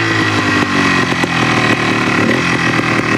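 Yamaha TY 250 classic trials motorcycle idling loudly up close while the clutch is pulled in to shift into second, a buzzy two-stroke rattle with a few sharp mechanical clicks, no talk.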